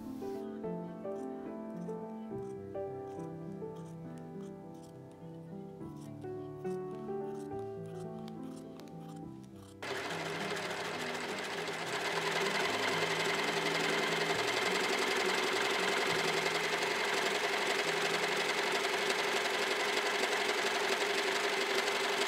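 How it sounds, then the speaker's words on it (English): Overlocker sewing raw fabric edges for a petticoat, first a rhythmic mechanical chatter of stitching, then a sudden louder, steady whirring run that continues to the end. "I have overlocked my raw edges"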